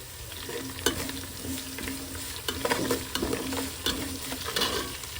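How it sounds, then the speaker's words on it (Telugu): Onions fry in a pan with salt and curry leaves, a steady close sizzle with repeated scraping of a spatula stirring through, no voices over it. "ఆనియన్స్ త్వరగా ఫ్రై అయిపోతాయి కొంచెం కరివేపాకు కూడా వేస్తున్నాము"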